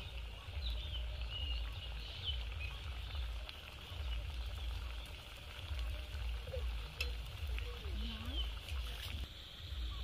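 Bengali pitha cakes fry in hot oil, giving a faint, steady sizzle and bubbling with a low background rumble throughout.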